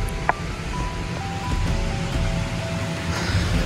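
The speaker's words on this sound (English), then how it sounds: "Of course, it's pouring down rain out here." Heavy rain pouring down outdoors at night, a dense steady hiss and patter continuing throughout, loud and close with no talking.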